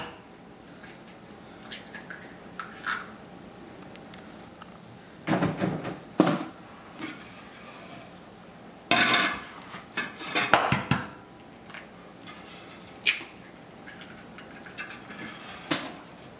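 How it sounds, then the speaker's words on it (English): Eggs are cracked one at a time into a separate container while pumpkin bread is being made, producing a few sharp clicks and taps against the bowl, with quieter clinks scattered between them. "I'm just gonna break the eggs into a different container."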